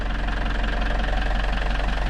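A camper van's engine idles with a rough, rhythmic knocking throb while a learner driver manoeuvres, steady low rumble close by with no talk over it.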